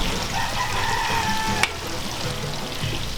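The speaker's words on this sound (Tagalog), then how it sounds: "ipiprituhin na siya dun sa kumukulong mantika" Empanadas sizzle steadily as they deep fry in boiling oil in a large wok, a soft constant crackle and bubbling with a brief sharp click partway through.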